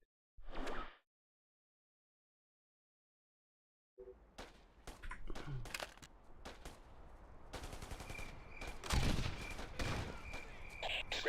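Gunfire in the Ghost Recon video game, a short burst, then after a silent pause a dense stretch of repeated automatic shots and impacts over game ambience, loud and close, continuing to the end.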